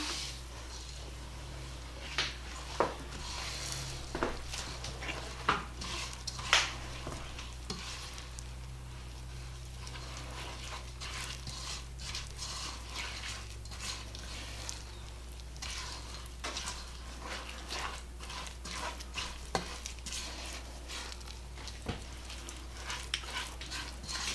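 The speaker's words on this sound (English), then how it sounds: "I think these are stirred up good enough" Oats being stirred into a no-bake chocolate cookie mixture in a pot, giving a steady soft scraping and sizzle-like rustle with scattered sharp clicks of the spoon against the pan, close and continuous throughout.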